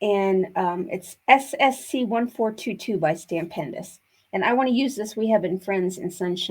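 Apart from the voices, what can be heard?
No everyday noise stands out behind the speech.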